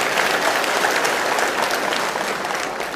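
Loud, dense applause from a crowd at a political speech in Phaltan, continuous clapping holding steady for a few seconds, close and filling the space.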